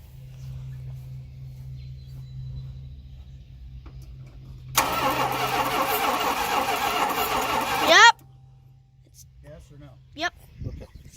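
A Dodge Ramcharger that sat in the weeds for a long time is cranked with the ignition key. A loud, near burst of roughly three and a half seconds of cranking ends abruptly, and quiet follows with a few faint knocks.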